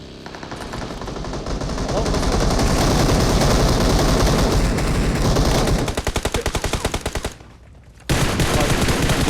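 Gunfire in a shooter video game: dense, loud bursts of automatic fire crackling almost continuously, breaking into distinct rapid shots near the end, with a brief lull before the shooting resumes.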